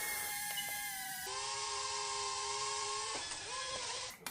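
A tiny drone's propellers whine in a high, thin buzz that shifts pitch in steady stretches as it tries to flip, close and fairly quiet, ending with a brief clatter.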